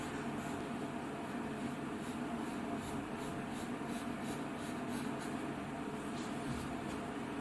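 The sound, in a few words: sketching lines on paper to enlarge a design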